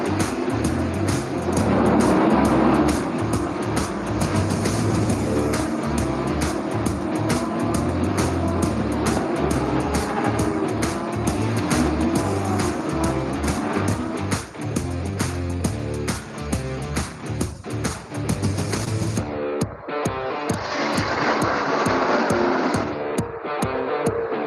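Stock cars in the Stock Car Pro Series at Buenos Aires roar past in a dense, continuous wash of racing engine noise, loud and steady, cutting off abruptly near the end.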